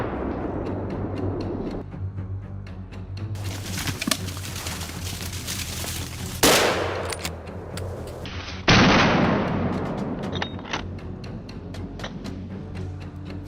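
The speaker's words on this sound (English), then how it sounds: "decisive gunshots ring out until the beast staggers" Several sharp rifle shots crack out during a wild boar hunt in grassland, loud and close, spread across the stretch with a steady low hum underneath and birds cooing in the background.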